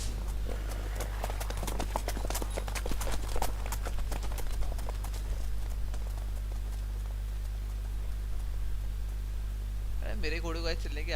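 Horse hooves clip-clop in a Witcher 3 game scene, a run of quick, irregular hoof thuds that grows sparse and fades, over a steady low hum, with a brief warbling tone near the end.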